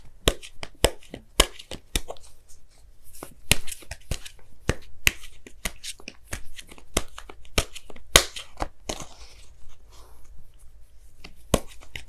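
Oracle cards being shuffled and pulled, giving a dense run of sharp papery snaps and flicks in irregular rhythm, close and clear with no talk.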